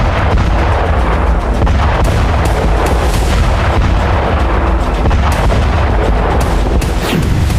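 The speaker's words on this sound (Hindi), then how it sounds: "एक के बाद एक कई धमाके हुए, कई इमारतों में आग लग गई।" Russian Iskander missile strikes hit Kyiv, setting off a dense, loud barrage of booming blasts and rumbling explosions that runs without pause for several seconds, with no voices.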